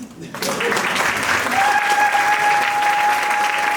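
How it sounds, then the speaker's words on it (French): Audience bursts into loud applause during a testimony at a Brussels gathering, dense clapping starting abruptly after a brief pause and continuing steadily, with a sustained tone and some voices beneath. "Est-ce que vous pouvez applaudir pour mon Dieu?"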